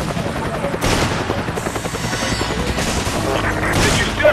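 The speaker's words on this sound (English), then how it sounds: "I can hear gunfire." Gunfire in the video game Resident Evil 5 comes as rapid bursts over a continuous rotor-like roar. It is loud and dense, with several volleys stacked across the whole stretch.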